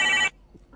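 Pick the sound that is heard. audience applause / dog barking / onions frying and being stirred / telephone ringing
telephone ringing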